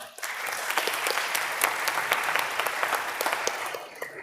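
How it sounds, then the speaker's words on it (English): Steady applause from an audience honoring a synagogue confirmation class on a Friday night, many hands clapping densely and continuously for about four seconds at close range with no talking over it. "I think we can applaud for this."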